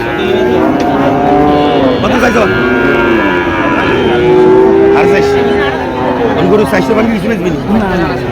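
Cattle moo loudly and repeatedly amid a busy crowd at Chandimura cattle market in Cumilla, with constant chatter and shouting from many people around the animals.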